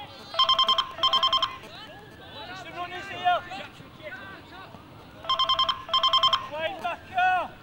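A mobile phone rings in two bursts of repeated electronic trills at a school cup final football match, under nearby cheering and crowd chatter from spectators.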